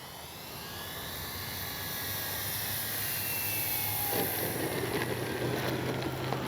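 A CNHL Super Tucano RC model airplane comes in to land, its steady electric motor whine and propeller drone holding level and fairly loud throughout, with a low tone appearing near the end and no talk over it.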